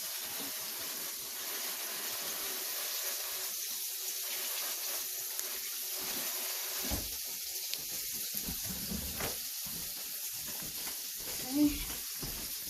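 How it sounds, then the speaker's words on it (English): Tap water runs steadily into a kitchen sink during hands being washed, with faint sizzling of frying chicken in the background and intermittent clatter, moderately quiet. "Gonna wash my hands"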